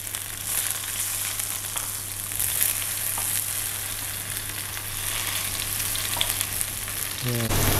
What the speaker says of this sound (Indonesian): Nah, jadi ini kita tumis sedikit supaya luarnya tuh lebih coklat gitu ya, lebih rustic gitu